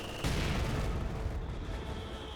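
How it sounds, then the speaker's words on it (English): A mortar barrage in Company of Heroes hits with a sudden heavy rumble of blasts that keeps roaring and slowly fades, loud and close, with no voices. "Mortars running in, so got a bit of counter barrage here."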